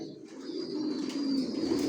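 Racing pigeons of Johnson-line stock coo softly and steadily inside a home loft, a low continuous murmur of several birds with faint higher chirps above it, no voices.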